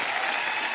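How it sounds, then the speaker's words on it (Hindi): Studio audience bursts into applause on a comedy talk show as actors Taapsee Pannu and Tahir Bhasin are welcomed; a brief, dense, steady wash of clapping from a large crowd. "जोरदार तालियां ताहिर और तापसी के लिए।"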